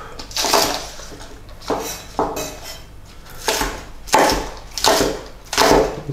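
Knife chopping green onion on a cutting board, a series of about six crisp, close knocks at a steady unhurried rhythm, alone without talk.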